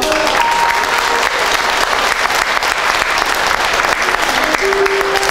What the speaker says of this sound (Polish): I teraz brawo dla państwa.